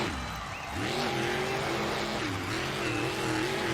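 A truck spins around in an off-road race, its engine revving hard and rising and falling in pitch with tire noise, loud and close for the whole moment.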